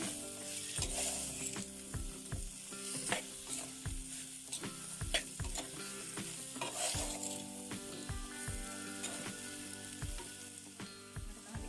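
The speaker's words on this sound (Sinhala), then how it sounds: "දැන් මේක හොඳට කලවම් කරගන්න." Pineapple curry with spices and curry leaves being stirred in a pan, a spoon scraping in a steady rhythm of close, distinct strokes over a continuous gentle sizzle, with no voices.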